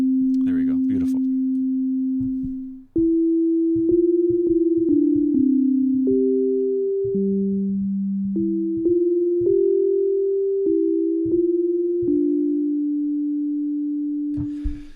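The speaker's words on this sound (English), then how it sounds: "So we can see a sine wave should be just a single tone, a single frequency." A software synth in Reaper, driven by MIDI, plays pure sine-wave tones: a sequence of clean single-pitch notes that step up and down in short held bursts. Each note starts sharply and fades slightly, with short gaps between them and no voices.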